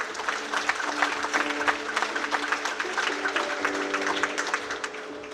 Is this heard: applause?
yes